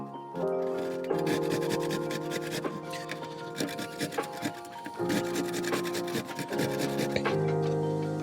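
Seeded cucumbers are rubbed over a grater, a close series of rasping scrapes in uneven strokes with brief pauses, set against a background of tonal sound.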